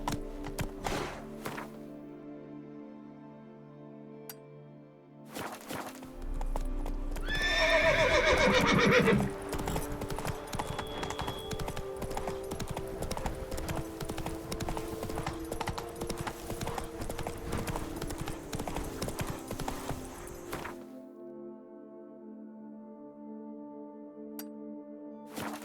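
Roach the horse galloping in The Witcher 3, a fast, rhythmic clip-clop of hooves that runs for about fifteen seconds and opens with a loud whinny, over a game music bed.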